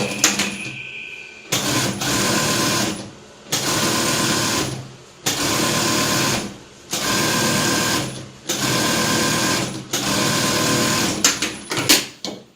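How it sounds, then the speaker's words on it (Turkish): An overlock sewing machine finishes a seam on a vest in rapid bursts, six loud whirring runs of even length separated by short pauses, with small clicks between runs. "vurduğumuz dikişi overlockla temizliyoruz."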